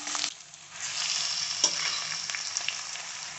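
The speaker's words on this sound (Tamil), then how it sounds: "கருவேப்பிலை சேர்த்துக்கலாம். ஒரு சாப்பிட ஆனியன் சேர்த்துக்கலாம். சேர்த்து நல்லா வதக்கி விட்டுடலாம்." Curry leaves and onion sautéing in hot oil in a kadai, a steady close sizzle with soft stirring, one sharper pop as ingredients hit the oil near the start.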